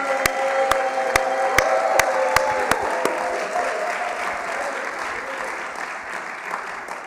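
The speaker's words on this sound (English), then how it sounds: "we can applaud one more time" An audience at a panel discussion applauds steadily, a dense wash of clapping with a few sharp louder claps early on, gradually thinning out toward the end.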